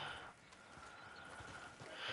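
Horses in Red Dead Online, hooves clip-clopping and shuffling nearby at a quiet, steady level.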